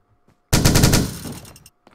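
A rapid burst of gunfire shooting out windows in the Minecraft mod The Mining Dead, loud and close, tailing off after about a second.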